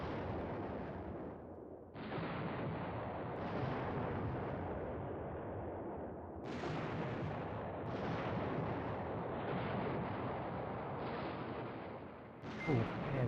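Artillery bombardment in the Command Ops 2 war game, set in Poland 1939 in the Beskid Mountains: a dense, continuous rumble of shell bursts and booms rolling on without pause, loud and unbroken with no talk.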